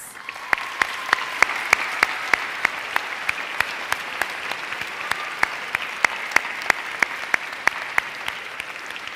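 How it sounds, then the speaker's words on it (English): In Rochester Cathedral, an audience applauds university graduates with a steady broad roar of clapping, punctuated by regular sharp, close claps from one nearby pair of hands at a brisk even tempo. "One more round of applause for them, please."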